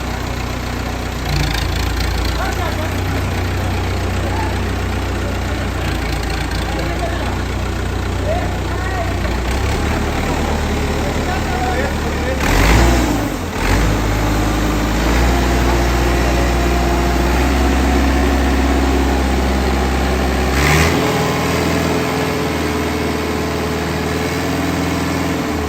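A New Holland NH 850 tractor engine idles loudly and steadily nearby with a deep chugging rumble, while someone talks over it in Hindi.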